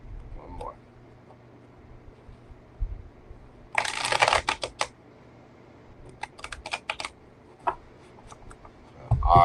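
Tarot cards are shuffled in quick crisp bursts of riffling and flicking, loud and close, with brief pauses between bursts during a live reading.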